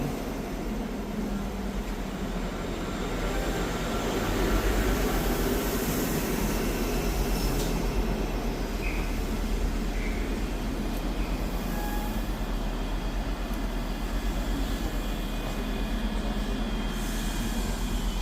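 ScotRail Class 334 electric units pass through Haymarket station in Edinburgh, a steady low rumble and wheel roar holding throughout, with faint squeals from the rails.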